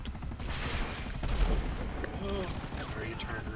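Rapid gunfire crackles in GTA V, a dense run of shots and bursts over game noise, fairly loud and continuous, with voices talking over it.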